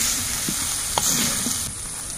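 Milk poured over a bitter gourd curry in a pan brings a steady, moderate sizzle with faint bubbling and a few soft clicks, continuous and close with no talking.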